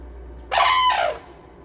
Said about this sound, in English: I thought it was an elephant, but it's just this bird